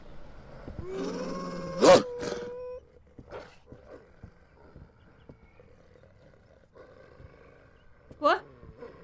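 A wolf growling in the horror video game We Harvest Shadows, a loud snarl near the start and another short growl near the end, with quieter rustles and thuds between and a player talking.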